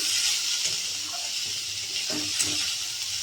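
Cooked snake gourd being stirred in a pan right after the lid comes off, giving a steady close hiss of sizzling with a few soft scrapes from the spoon.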